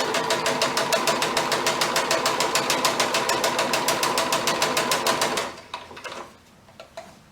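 A sewing machine stitches shirring rows on fabric in a fast, even mechanical chatter, close and steady for about five seconds before it slows and stops with a few soft clunks.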